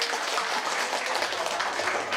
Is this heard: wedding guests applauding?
yes